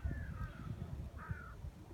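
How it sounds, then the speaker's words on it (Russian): Crows in winter give two short, faint caws some distance away, with low pigeon murmuring and rustling underneath. "Вот они, вороны, дорогие мои."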